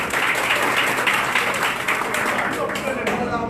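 Crowd applause at an opposition political rally in Haiti, a dense sustained wash of clapping from many people, loud and continuous throughout, with voices mixed in.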